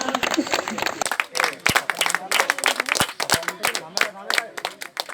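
An audience at a night-long shadow cricket tournament prize ceremony claps for the champions, with a dense spatter of applause mixed with a loud voice talking over it.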